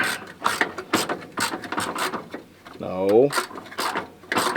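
Ratchet wrench clicking in a rapid burst while a bolt is backed out during fuel system work on a 1987 Chevy R10 pickup, close by, between bits of voices and a brief spoken word.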